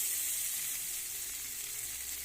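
Garlic and eggplant sauté in oil in a pan, giving an even, continuous hiss of sizzling that stays close and moderately quiet for the whole stretch, with no talking.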